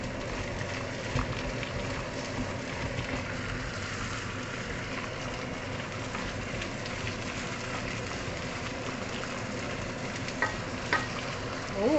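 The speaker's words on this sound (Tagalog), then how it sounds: "I-fry muna natin yung ating curry leaves." Curry leaves fry in hot oil alongside chicken, making a steady, dense sizzle that holds level for the whole stretch, with a few faint stirring clinks near the end and no talk.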